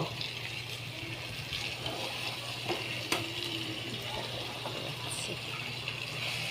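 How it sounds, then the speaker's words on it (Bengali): Water pours into a pan of fried spices for a yogurt-based pointed gourd curry, a faint, steady gushing flow that continues throughout. "এবার আমি জল দিলাম"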